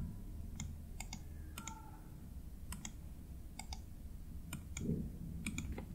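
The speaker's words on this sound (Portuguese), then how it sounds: "Então você vai digitar sudo apt update" Keys clack on a computer keyboard as a command is typed, a series of crisp, separate clicks in small irregular bursts, close and fairly quiet over a low hum.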